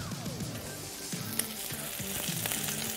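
Bacon sizzles and crackles on a grill during a Friday live grilling session, a steady dense fry hiss with repeated spatters and pops, close and continuous with no talking.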